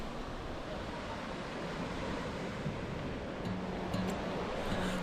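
Steady, wide wash of sea surf at a beach near Mazarrón, Spain, heard from a short distance as continuous rushing water with faint wind, no voices.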